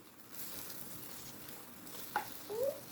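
Oil sizzling in a pan while a Thai omelette (khai jiao) fries, a soft steady hiss with a couple of sharp spatters and pops near the end, fairly quiet and with no talk.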